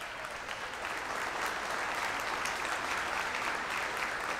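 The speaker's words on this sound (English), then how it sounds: "She deserves a round of applause." Audience applauding a chestnut mare at a horse training demonstration, steady dense clapping throughout at moderate volume, with no voices.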